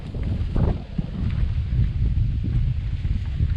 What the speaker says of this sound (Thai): ข้างบนลมดีครับ